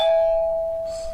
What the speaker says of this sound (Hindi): जाने में भी घंटी बजती क्या?